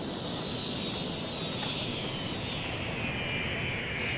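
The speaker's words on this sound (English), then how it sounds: "look at that with the sunset in the background and the airplanes landing" Airplanes landing at an airport in the city-building game Cities: Skylines, a steady roaring jet engine whine with a slowly falling high pitch, loud and continuous, no talking.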